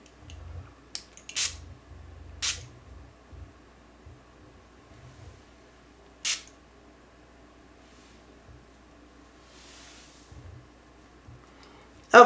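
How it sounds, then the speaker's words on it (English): A bottle of Cécred Restoring Hair and Edge Drops releasing short, sharp spray bursts, several close hisses spread across quiet handling noise and light tapping. "that was a big spray"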